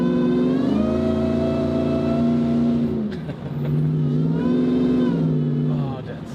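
A powerful supercharged Dodge Ram Hellcat pickup truck engine revs hard with a rising supercharger whine, dips briefly around the middle, then roars again, loud and close throughout.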